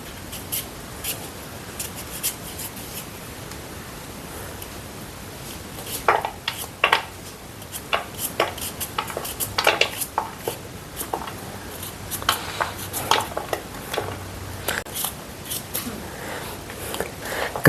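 Raw papaya chopped for pickle at home, a rapid series of sharp knife taps against a board, irregular at first then denser, close and moderately loud over a quiet room.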